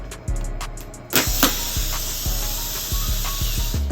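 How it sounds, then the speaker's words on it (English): A balloon punctured so it deflates without a big pop, giving a sudden loud hiss of escaping air after a few soft taps, then a steady rushing hiss with faint repeated thuds, no voices. "if you just puncture the balloon from here, you should not get a big popping sound"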